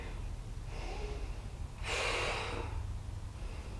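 Deep breathing during a Pilates swimming exercise, opposite arm and leg lifting: a soft exhale near the start, then a louder, rushing breath for about half a second in the middle, over a low steady background hum.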